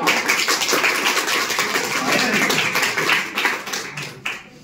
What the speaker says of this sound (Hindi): अब चूंकि आप लोगों ने तालियां बजा दी है